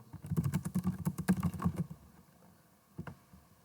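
Typing on a computer keyboard while coding a React tutorial, a quick run of close clicking keystrokes for about two seconds, then quiet with one or two final taps.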